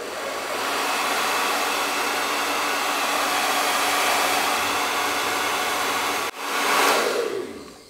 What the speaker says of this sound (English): So I have this blow dryer that I'm going to use just to test the wind situation.